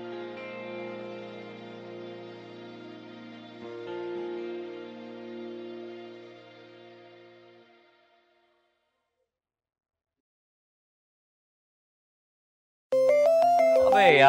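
A fading musical tone decays into silence, then an electronic ringtone suddenly starts, loud and close, with a repeating melodic pattern.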